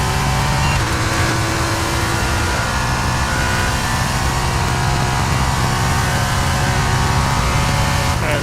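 Engine of an F1 racing car in the F1 23 video game, a steady loud high-revving drone running through turns for the whole stretch with continuous broadband roar.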